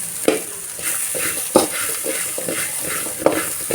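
Bitter gourd frying with onion and grated coconut in a pan, a loud continuous sizzle broken by three sharp spatula knocks against the metal, close by and without speech.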